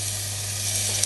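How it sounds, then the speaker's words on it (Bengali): Chopped onion hits hot oil in a cooking pot for a Bengali cauliflower and shrimp fry, giving one brief, steady, bright sizzling hiss heard up close. "পাতিল গরম হলে তেল দিয়ে দিচ্ছি পেঁয়াজ কুচি"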